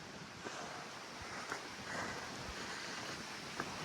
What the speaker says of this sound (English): Well, lots of wind.